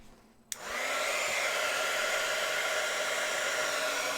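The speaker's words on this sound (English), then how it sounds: "This is a heat tool." A small heat tool drying paint on a miniature clicks on and then blows a constant, loud, whirring stream of air that runs steadily to the end.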